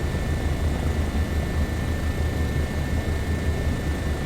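Bo 105 helicopter in Microsoft Flight Simulator 2024, its steady rotor and turbine drone holding a dense, continuous low rumble with a faint high whine, loud and unbroken throughout.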